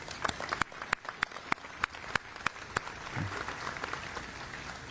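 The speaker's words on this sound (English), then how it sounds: "let's give them a big round of applause." Sparse applause of sharp, evenly spaced claps for about three seconds at a city hall ribbon-cutting, then only a soft room murmur.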